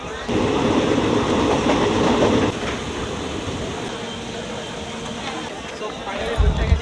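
Steady rumble and rattle of the Hazarduari Express from inside a carriage, continuous and fairly loud, with faint background voices.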